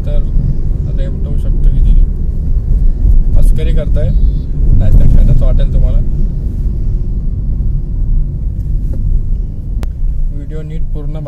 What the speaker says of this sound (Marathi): अशी मी गाडी पळवत नाही कुठं